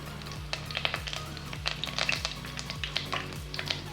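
Curry leaves crackle and sizzle in hot oil in a pan for a country chicken curry with tamarind leaves, a close, quiet hiss dotted with sharp pops, over a faint steady low hum.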